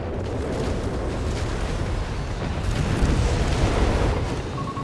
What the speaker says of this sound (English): We got another massive barrage of artillery here.